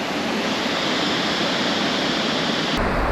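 A waterfall at a Munnar resort roars as a steady, loud, close wash of water with no other sounds, and its tone shifts briefly near the end.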